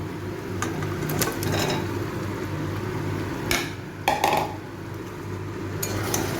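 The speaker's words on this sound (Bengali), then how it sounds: "আমি এবার এর মধ্যে চিকেনটা দিয়ে দেবো।" Chicken pieces going into a pan of fried spice masala for chicken curry: scattered clinks and scraping knocks of utensil on pan over a low steady background hum, with no talking.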